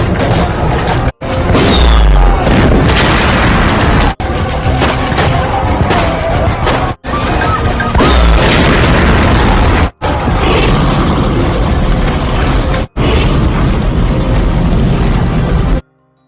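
Heavy booming tank cannon blasts and explosions crash repeatedly through a dense, loud battle din, with deep impacts recurring every few seconds.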